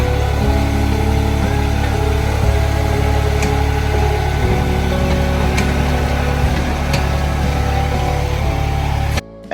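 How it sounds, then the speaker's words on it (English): A John Deere tractor engine runs steadily and loudly, close by, while a house walkway is widened during an outdoor renovation, a continuous drone with no talk until it cuts off at the end. "my grandfather has his John Deere tractor, because making this walkway wider was definitely so much easier than doing it by hand"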